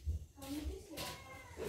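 A cat meows a few times, close and fairly loud, at a family card-game gathering, with people talking over and around the meows.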